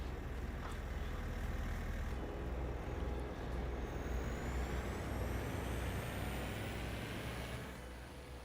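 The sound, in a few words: truck in Farming Simulator 22 video game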